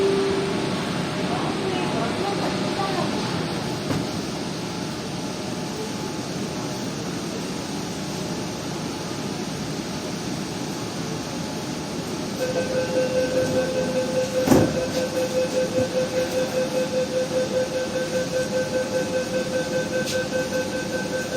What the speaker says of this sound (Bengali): এবার আমরা আমাদের শিয়ালদা থেকে সেক্টর 5 ভার্চুয়াল মেট্রো ট্রাভেল শুরু করব।